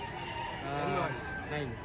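A gamecock crows amid a sale of fighting roosters in Lipa, Batangas, its drawn-out call rising over steady background noise while buyers and sellers talk nearby.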